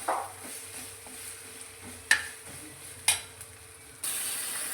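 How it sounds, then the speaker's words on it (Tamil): Onion and mint sautéed in oil with cinnamon in a pan for chicken pepper dry, a soft steady sizzle with a few sharp clinks of a spoon stirring against the pan, then a louder hiss near the end. "வெங்காயம் போடலாம், புதினா போடலாம், நல்லா வதக்கலாம்."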